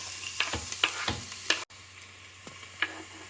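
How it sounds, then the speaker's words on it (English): Onions sauté in an Instant Pot Duo Evo Plus, a soft, steady sizzle broken by several sharp spoon clicks and scrapes against the inner pot, close and free of talk. "We're gonna add the onions and carrots. Well, first the onions, let them saute"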